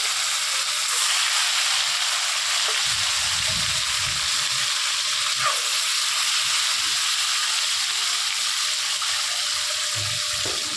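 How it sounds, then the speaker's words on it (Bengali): Catla fish pieces rubbed with salt and turmeric frying in hot oil, giving a steady, broad hiss and sizzle that runs throughout, with a few faint low knocks partway through and no talk. "এবার আমরা মাছগুলো তেলের মধ্যে ছেড়ে ভেজে নেব ভালো করে।"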